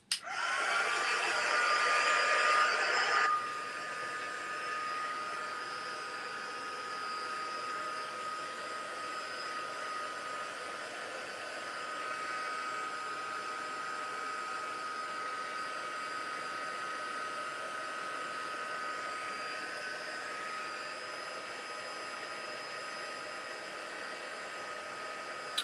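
A hair dryer blowing on craft paint, a steady close whoosh and hum that starts louder for the first few seconds, then settles to a lower setting and runs continuously for the rest.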